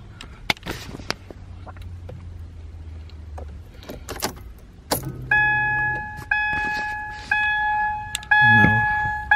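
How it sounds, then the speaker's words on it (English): Ignition key turned to the second position in a 2011 Ford Focus, with keys jangling and soft clicks, followed by steady electronic chime-like tones and hum as the dash powers on. "While pressing the set key, you have to shift your car key to second position."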